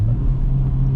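A 2023 Acura Integra Type S pulls hard under acceleration, its engine a loud, close, sustained droning rumble heard from inside the cabin.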